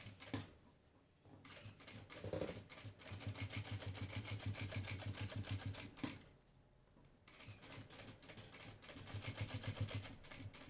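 A sewing machine set to stitch length 4 stitches a zipper onto a bag lining, running in a fast steady rattle with short pauses between bursts, close and fairly quiet.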